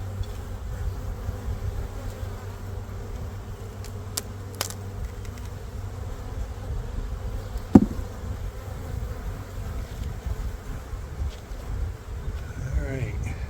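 Honeybees drone around a spring nuc hive in a small apiary, a steady low buzz with a few louder bees passing close to the microphone and a sharp knock partway through.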